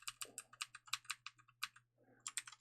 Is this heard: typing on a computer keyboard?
yes